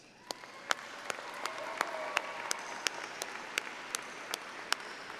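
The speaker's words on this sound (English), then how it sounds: "Graduates, why don't you give your supporters a round of applause?" Applause at a graduation ceremony, faint and sparse, with individual claps landing at a fairly regular pace over a quiet room background.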